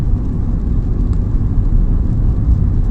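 Petrol 2012 Toyota Yaris 1.3 automatic pulling away and driving, heard as a steady low engine and road rumble with constant loudness throughout.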